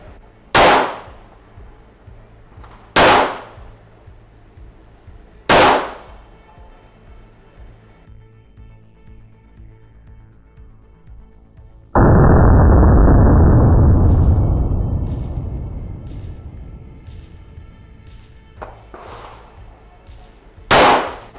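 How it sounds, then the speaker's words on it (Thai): Three sharp Smith & Wesson M&P9 M2.0 pistol shots at a shooting range, evenly spaced a few seconds apart, followed by a long loud sustained noise and then another shot near the end. "พร้อมแล้วเริ่มยิงนะครับยิงช้าๆนะ"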